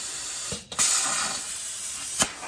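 A plasma cutter slices through metal at too fast a pace, throwing off spray with a loud, continuous sizzling hiss broken by a brief dropout and a couple of sharp pops, with no talking.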